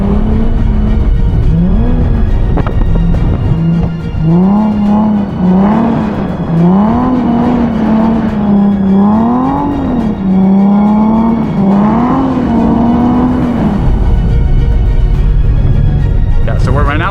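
A Nissan 370Z rolls downhill on a snowy road, its engine note droning and wavering in pitch as revs rise and fall, loud and close before easing off near the end.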